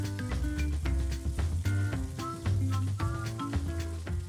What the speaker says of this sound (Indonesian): Kita akan tumis dulu bawang beserta daging